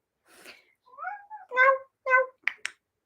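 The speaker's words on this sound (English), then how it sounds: "That is my son's cat." A house cat gives a string of short, close meows with rising and falling pitch, several in a row, ending with a couple of sharp clipped sounds and no talking over them.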